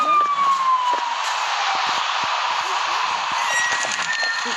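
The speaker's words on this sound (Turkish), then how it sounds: "Polis arabası sesi duyduğunu duyuyor musunuz?" A police car siren wails continuously with a falling then steady tone, loud and fairly near, with clattering noises underneath.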